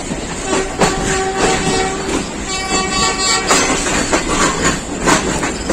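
A Pakistan Railways train pulls into a station platform: rumbling wheels and clattering carriages, with horn or whistle tones sounding repeatedly over the din, loud and close.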